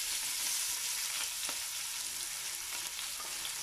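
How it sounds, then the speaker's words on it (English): Mince curry ingredients fry in a pan with a continuous bright sizzle and a few sharp spattering pops, close and fairly quiet, with no voices. "look at that spattering away"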